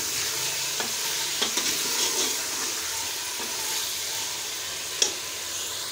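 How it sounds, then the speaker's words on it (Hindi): Chicken with salt fries in a pan with a loud, steady sizzle, broken by a few soft scrapes and knocks as it is stirred. "तो अच्छी तरीके से हम फ्राई कर लेंगे चिकन को"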